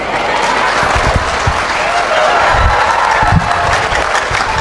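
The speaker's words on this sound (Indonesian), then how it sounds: "Kita berikan tepuk tangan gemuruh untuk Pak Rocky Gerung" An audience gives loud, sustained applause for Rocky Gerung at a talk event, with dense clapping that rises and falls slightly across the whole stretch and a few scattered cheers.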